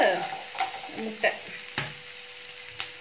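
Macaroni fries and sizzles steadily in a pan, with several scraping stirs of a utensil against the pan spaced through the short stretch, close by and with no talk.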